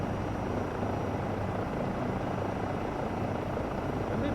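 A Eurocopter EC135 helicopter in Microsoft Flight Simulator 2024, its steady rotor roar and engine drone loud and continuous throughout, with no voices.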